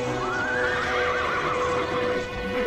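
A single horse neighs loudly and nearby in one long, quavering whinny, with faint hoof clopping and commotion beneath it.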